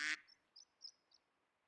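A faint cartoonish duck quack from Super Auto Pets follows a short loud burst, with three or four soft quacking blips spaced apart in a quiet game setting.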